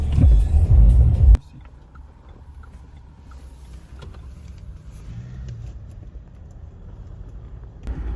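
A car drives through Prague streets. A loud rushing burst lasts just over a second, then cuts to a steady, low, muffled engine rumble heard from inside the car.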